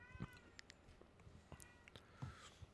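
A man imitates cat meows in a few soft, scattered calls mixed with faint clicks and rustles. The sound is quiet and close, with no other talk.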